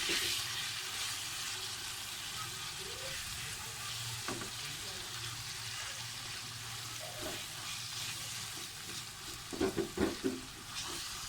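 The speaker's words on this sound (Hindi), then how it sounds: "अब इसमें मैं कीमा डाल दूँगी। अब इसको हमने लो फ्लेम पे भूनना है।" Gentle, continuous frying sizzle of minced meat (keema) in a pan on low flame, with occasional utensil taps and a brief burst of clatter near the end.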